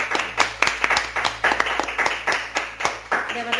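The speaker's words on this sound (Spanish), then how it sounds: "vamos a cerrar todos con un aplauso muy grande." A modest audience at a wellness talk applauds with steady, rhythmic handclaps that sound close and fairly distinct, keeping a near-regular beat for several seconds.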